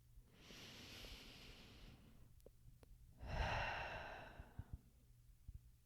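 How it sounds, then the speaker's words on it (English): Two slow, deep breaths, each a long airy inhale and exhale, heard close and soft in an otherwise quiet room. "Take a pause, take a deep breath."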